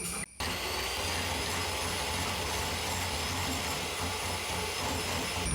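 Electric mixer beating a melted sugar mixture for a tiramisu cake gives a steady, loud, continuous whir that holds evenly throughout after a brief dropout at the very start.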